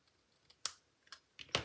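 Scissors snip ribbon ends for a card, giving four quick, close, crisp cuts spaced unevenly over a second and a half in an otherwise quiet room.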